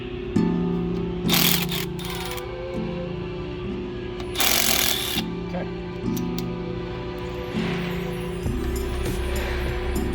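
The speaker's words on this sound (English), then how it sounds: "so once you get these 3 bolts removed" A ratchet works bolts loose on a Ford F250 manual hub lockout, giving a few short bursts of metallic clicking over a steady low background hum.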